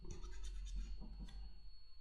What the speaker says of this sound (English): Just sanding it a little bit.